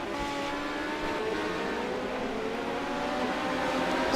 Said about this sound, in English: He's screaming that car too